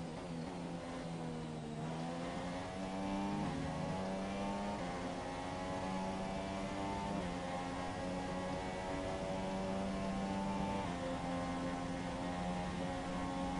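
Formula 1 race cars in F1 2017 on the Belgian Grand Prix circuit through Blanchimont, a steady high-revving engine whine with rising and falling harmonics throughout, loud and continuous with no talk.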